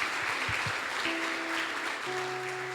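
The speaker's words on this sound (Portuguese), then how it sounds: "Vamos aplaudir o nosso Deus." A church congregation applauding, a dense wash of clapping from many hands filling the room, steady throughout, with faint organ or keyboard tones sustaining beneath.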